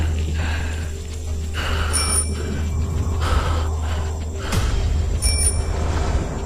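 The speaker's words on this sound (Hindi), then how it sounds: "तभी राजू को पीछे साइकिल की" A bicycle bell rings twice in short bright bursts, around two seconds in and again near five seconds, over a steady low rumbling drone in an animated horror scene; breathing is not clearly separable from the background.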